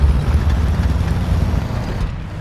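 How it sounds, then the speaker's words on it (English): An enemy tank's weak engine drones in War Thunder, a steady low rumbling hum mixed with broadband noise that stays fairly loud and even throughout, with no talking over it. "It sounds like it's got a weak engine."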